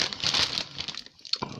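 Plastic bag holding clear parts from an ICM 1/35 scale German army truck kit crinkles loudly up close, then briefly goes quiet before a few more rustles.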